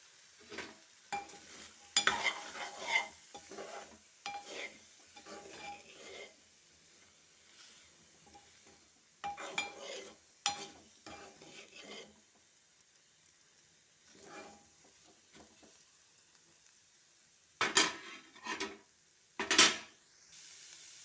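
Chili powder fries in a pan for a Telugu curry of meal maker, peas and bottle gourd, soft intermittent sizzling with several louder bursts of stirring and utensil clatter against the pan.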